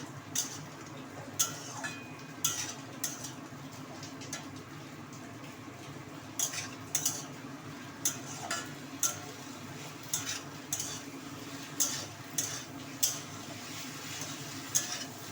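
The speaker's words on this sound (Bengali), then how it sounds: "ডালের বড়াগুলো দিয়ে দেবো দিয়ে এবার আমি একটু নাড়াচাড়া করে নেব" Lentil fritters are stirred in a pot of banana-flower curry, a soft bubbling sizzle under repeated light spoon scrapes and taps against the metal at an uneven pace.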